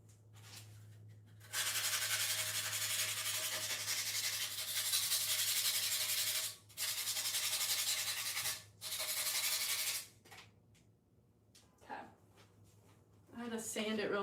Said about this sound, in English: I had to sand it real quick or else the wax is gonna really soak in